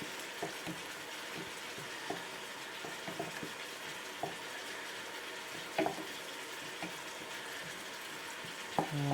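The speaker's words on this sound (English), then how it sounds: "I'll just give that a stir." A spoon stirring spicy sauce in a pot, with soft scraping taps and small knocks against the sides over a steady, gentle simmering hiss.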